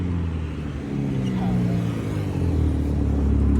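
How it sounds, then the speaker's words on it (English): Chevrolet Camaro rumbling nearby with a deep, steady low engine drone that swells slightly toward the end, like a car rolling past or revving lightly, with no clear speech over it. "Sick ass Camaro."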